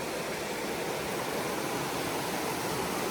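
A river rushes beside a hiking trail on the Appalachian Trail, a steady broadband roar of flowing water that fills the scene without pause and with no voices.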